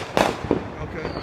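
Fourth of July fireworks popping in the dark, two sharp bursts close together near the start, then quieter crackle and faint pops fading under background noise.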